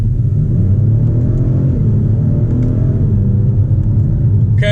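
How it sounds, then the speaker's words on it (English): A 2019 Genesis G70 accelerates hard with a little wheel spin: a loud, steady, close engine rumble with rising tone runs throughout, ending in a brief high squeal. "Okay, so I got a little wheel spin there."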